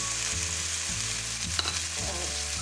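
Chopped green garlic and long green chillies sizzle and fry in a hot pan, a steady crackling hiss with occasional stirring noises, close and clear, no voices.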